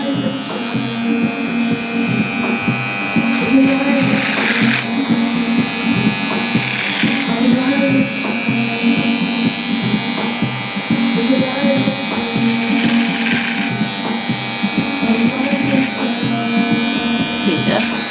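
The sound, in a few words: electric beard trimmer trimming neckline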